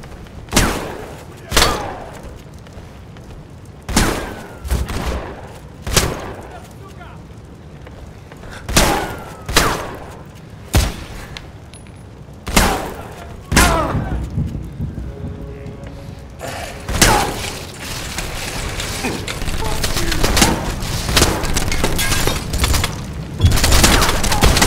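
Gunfire trades back and forth in a shootout from Wanted: Weapons of Fate: loud, sharp shots and booming impacts land in uneven bursts a second or two apart, then build into denser continuous firing near the end.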